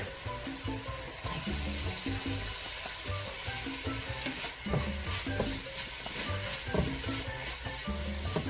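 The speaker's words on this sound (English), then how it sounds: "I'm gonna add the sausage" Sausage and browned garlic sizzle in a pan for a Cuban congrí, with steady frying hiss and repeated scraping stir strokes throughout; no talking.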